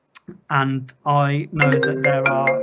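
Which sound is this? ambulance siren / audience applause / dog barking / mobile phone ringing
mobile phone ringing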